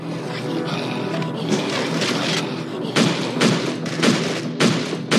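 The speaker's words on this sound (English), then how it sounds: "Gunfire's too loud." Bursts of loud, booming gunfire from the mobile game State of Survival: Zombie War, with gun turret fire cracking out in rapid clusters over a constant rumbling background, growing heavier toward the end.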